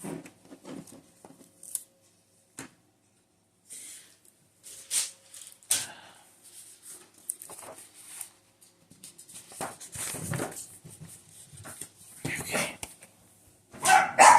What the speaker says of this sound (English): They started barking.